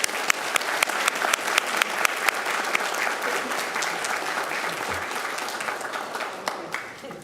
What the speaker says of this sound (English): Please join me in giving a round of applause to Ms. Ramos.